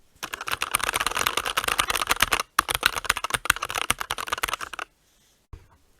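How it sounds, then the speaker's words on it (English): Rapid, dense clacking of linear switches on a SteelSeries Apex 9 gaming keyboard, recorded up close, runs in bursts with a short gap midway, then stops and leaves a few isolated taps. "I'm moving my mic close by so you can hear what the keycaps sound like."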